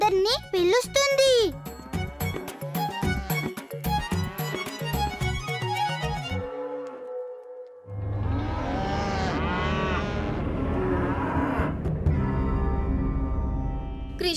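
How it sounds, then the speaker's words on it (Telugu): Cows lowing in a devotional farm scene, drawn-out moos heard under music and chatter, with a voice and a tinkling jingle nearby. "ఆవులన్నీ అంబా అని అరుస్తున్నాయి"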